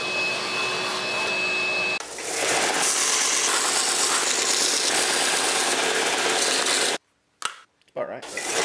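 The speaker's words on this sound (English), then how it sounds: "Do some sanding." Kydex holster plastic being sanded, loud and close: a steady whining hum gives way to a broad, even power-sanding roar that stops abruptly, then restarts in brief bursts.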